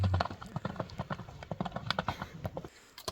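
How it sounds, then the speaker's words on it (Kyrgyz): Hoofbeats of a running horse, rapid rhythmic clip-clop thuds repeating steadily throughout at close range. "аттын чуркаганын көрсөңүздөр болот"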